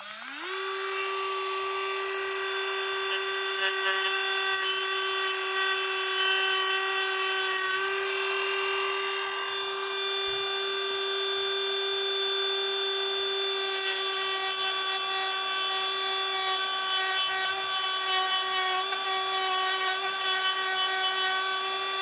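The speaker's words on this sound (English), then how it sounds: "We'll take and just see if we can grind off the edge" DURATECH 3.6V cordless rotary tool grinding the edge off a nail, a steady high-pitched motor whine with grinding grit layered over it, close and loud, holding for about twenty seconds without talk.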